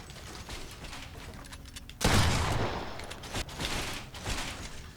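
Shotgun fire in a Fortnite arena match, a sharp burst of shots at the midpoint followed by ragged, loud gunfire and mechanical clatter lingering over the next few seconds.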